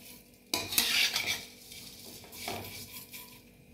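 Dry vermicelli strands rustle and scrape against a pan as they are stirred and roasted on high flame, with a faint sizzle and occasional utensil clinks, close and quiet.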